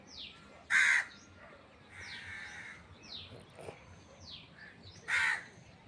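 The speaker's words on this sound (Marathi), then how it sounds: "आणि पक्ष्यांचा चिवचिवाट चालू आहे" Birds perched in trees outside a village house call out with harsh, crow-like caws: two loud, close calls near the start and end, and fainter calls scattered between them over a quiet background hiss.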